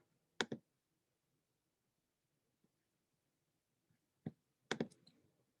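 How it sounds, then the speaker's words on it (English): A few sharp computer mouse clicks on a save button, a quick double click at the start and another burst near the end, close and crisp in an otherwise quiet room. "So I'm going to click save."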